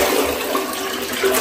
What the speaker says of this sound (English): I've got a bucket of water here, probably a gallon and a half, and I'll put it right into the toilet